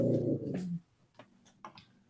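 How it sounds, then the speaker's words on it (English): A dog growls low and rumbling for under a second, then falls into a quiet indoor room where a few faint clicks and small yips follow. "My dog's gonna bark."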